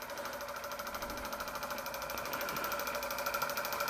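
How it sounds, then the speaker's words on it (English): A small scratch-built Mamod-style model steam engine with a low-capacity boiler runs under steam, giving a steady, fast mechanical chuffing and rattling rhythm that carries on throughout at moderate level, with no talk. "it's still nice to see the engine run under steam"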